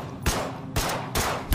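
Gunfire from units in They are Billions, three or four loud sharp bursts spaced about half a second apart, each one harsh and broadband with a short tail.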